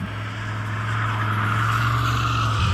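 Pontiac Grand Prix GXP engine giving a steady, calm low rumble with a faint rise in intensity, smooth and continuous without any talking.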